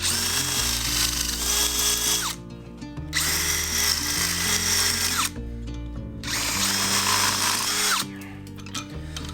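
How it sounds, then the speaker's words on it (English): A power drill bores bolt holes in a 2023 Ford Bronco modular bumper, running in three loud, sustained bursts with short pauses between them and no talking. "So I might as well drill all 4 so that they'll fit."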